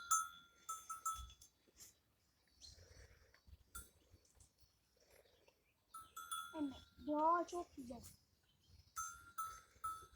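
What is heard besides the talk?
goats grazing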